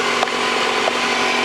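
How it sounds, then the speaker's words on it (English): A car engine idles steadily with the hood open while battery terminals are being cleaned, a constant loud hum with no pauses and no talk. "The engine is running."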